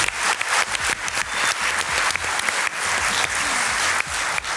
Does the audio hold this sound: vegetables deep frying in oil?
no